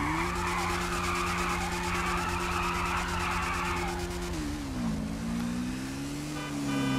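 A Honda CBX250 motorcycle in GTA V skids with a long, loud tire squeal over the steady engine drone, the pitch dipping and wavering midway as the bike slides and recovers.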